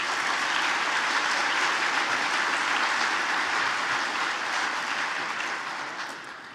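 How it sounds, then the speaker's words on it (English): A convention audience of track and field coaches applauds championship coaching staffs, a thick steady wash of clapping from a large crowd that holds evenly and fades slightly at the end. "Let's have another round of applause for our championship coaching staffs."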